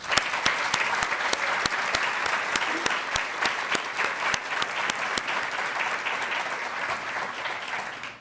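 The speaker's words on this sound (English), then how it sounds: "And I want to give them a hand of applause." Audience applause for LGBTQI colleagues at a State Department foreign policy convening, a steady broadband wash of many hands clapping that holds for about eight seconds and fades at the very end.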